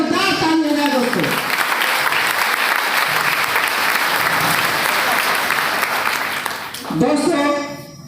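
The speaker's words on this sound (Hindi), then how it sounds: "जोरदार ताली हो जाए दोस्तों" An audience at a business meeting breaks into loud, sustained applause, thick and steady, with someone speaking over the start and the end as the clapping fades.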